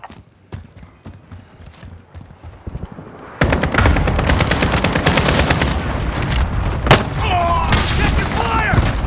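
Call of Duty Modern Warfare cluster strike: after quieter scattered pops, a dense barrage of rapid explosions erupts and rumbles on continuously for several seconds, loud and overlapping, with occasional sharper blasts and a voice talking beneath.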